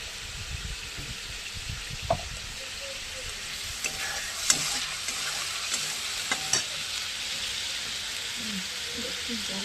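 Chicken coated in spice paste frying in oil, a continuous close sizzle with occasional knocks and scrapes of a stirring utensil against the pot; no one speaks.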